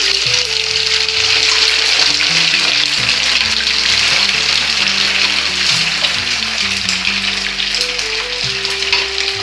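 Chicken pieces for pickle fry in a pot of hot oil, a loud, dense, continuous crackling sizzle that stays even throughout, with a faint low hum beneath.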